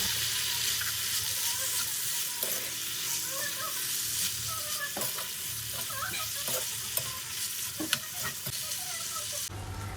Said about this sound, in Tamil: ஆயில் நல்லா சூடானதுமே நம்ம மேரினேட் பண்ணி வச்சுருக்க சிக்கனை ஆட் பண்ணிக்கலாம்.